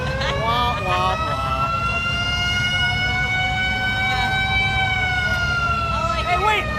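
An emergency vehicle siren wails continuously at a Halloween parade, loud and near in a long rising and falling tone, with voices and crowd noise beneath it.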